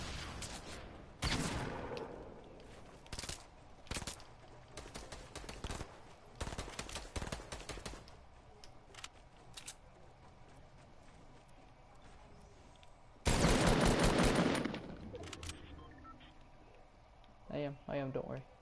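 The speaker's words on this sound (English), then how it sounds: "They're shooting grenades." Bursts of gunfire and grenade blasts in the Fortnite video game come in irregular clusters, with a loud sustained volley near the end, while players talk over the action.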